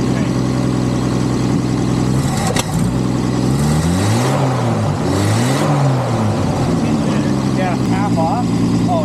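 An M715 military truck engine fitted with a Holley carburetor idles, then revs up and falls back in repeated rising and falling sweeps, loud and close, with voices talking over it.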